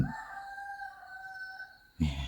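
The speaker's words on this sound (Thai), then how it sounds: "มีเสียงไก่ขัน" A rooster crows once in a village before dawn, a long clear call heard alone and fairly close, followed at the end by a louder burst of nearby noise.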